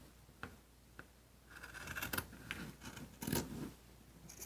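Scissors cut through fabric for a can koozie, a quiet close series of snips and a longer slicing rasp, with a few soft clicks at the start.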